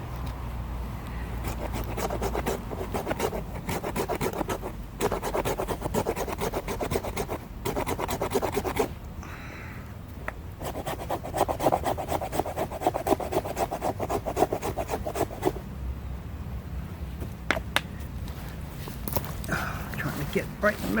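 A knife carves shavings from a fatwood stump outdoors, making repeated close scraping and rasping strokes in an uneven rhythm, with brief pauses between cuts.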